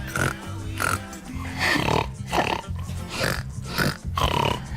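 A person imitates a pig's squeal and grunts with the voice, repeated several times in quick bursts, close and fairly loud, mixed with talking.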